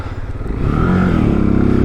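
A brand-new 2025 Keeway RKS 125 motorcycle pulls away while being ridden, its engine note rising steadily and loudly as it shifts up through the gears, heard up close and alone.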